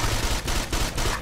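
Dense, continuous gunfire in Ghost Recon, a loud rapid rattle of overlapping shots with a few brief dips in the barrage over about a second.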